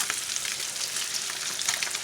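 Fish fries in an old, well-seasoned pan with a continuous bright sizzle and crackle at an even level throughout, with no voices.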